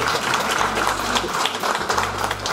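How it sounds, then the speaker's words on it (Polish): Dense applause from an audience at a school's eighth-grade ball, a steady wash of clapping lasting throughout with a low rumble of voices and thumps underneath. "Wielkie brawa dla Waszej młodzieży."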